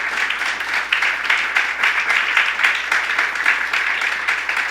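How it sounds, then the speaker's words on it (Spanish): A church congregation applauds during a Spanish-language sermon, a steady, dense wash of many hands clapping together that holds at an even level for several seconds without pause. "Le damos un aplauso al Señor."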